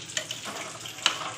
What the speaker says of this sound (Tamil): நல்லா கொதி வந்துடுச்சு